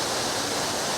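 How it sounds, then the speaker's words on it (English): A very noisy waterfall roars at the Furka Pass in the Alps, a dense, constant rush of water filling the brief moment with no voices. "waterfall which is very, very noisy."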